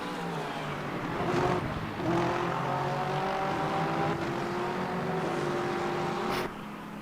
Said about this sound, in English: Is that a good Porsche sound coming out of that car?